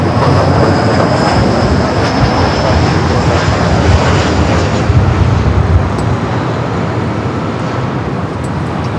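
Southwest airliner on its takeoff roll from runway 24 left at LAX, a loud, continuous jet engine roar with broadband rumble, heard up close and steady throughout.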